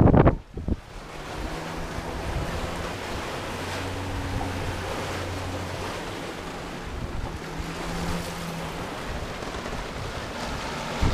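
Wake water rushing and churning behind a sailboat on open sea during a long passage from Martinique to St. Martin, a steady broadband wash with wind buffeting the microphone and a faint low hum underneath.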